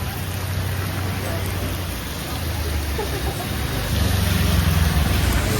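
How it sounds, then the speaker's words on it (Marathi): Heavy rain pours down in Nainital, a dense, unbroken hiss that swells slightly louder toward the end, with a low rumble beneath and faint voices. "पाऊस बघा तुम्ही किती पडतोय तो."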